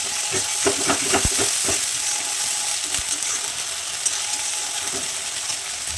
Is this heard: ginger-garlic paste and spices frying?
yes